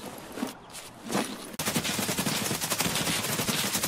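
Automatic gunfire erupts in Escape from Tarkov after a quieter stretch of scattered shots, then a dense rapid burst of close, loud rounds fills the rest.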